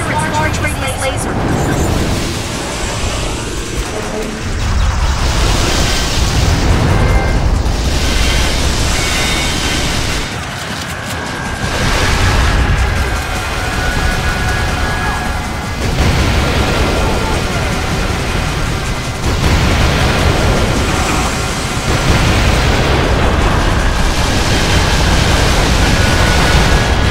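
A boss in Vanquish charging and firing a large radiant laser amid repeated explosions: loud, roaring blasts and sustained beam rumble that surge in waves throughout, with low booms rolling under the noise.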